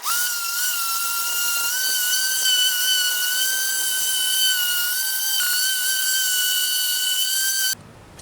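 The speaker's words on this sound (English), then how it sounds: "I'm gonna go ahead and sand everything, especially the bottom, while I can still get to it." A power sander runs steadily on a wooden mortise and tenon bench, a loud, continuous whining motor tone that holds for about eight seconds, then cuts off abruptly.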